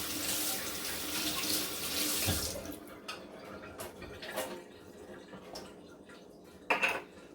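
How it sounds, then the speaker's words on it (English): Tap water runs steadily to rinse Enagic LeveLuk water filter parts, a broad hiss that fades after a few seconds into scattered splashes and light clatters, with a sharper knock near the end. "I'm just going to give it a quick rinse."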